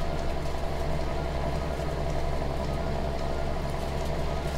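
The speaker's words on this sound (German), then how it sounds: "Da höre ich doch einen Motor." A farm vehicle engine idles in Farming Simulator 19, a steady mid-to-low droning hum that holds constant throughout without voices.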